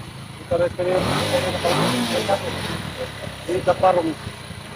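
A motorcycle engine putters at idle, then gets blipped into short revs, mixed with a person talking close by.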